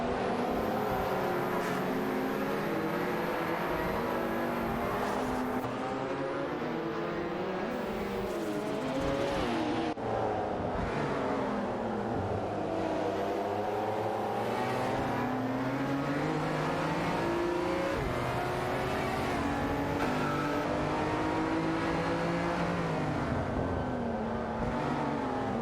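Engines of Pagani Zonda C12 and Lamborghini Diablo racing cars in a video game roar continuously, revving up and down through gear shifts as several cars jockey for position on a track, loud and sustained with no talking.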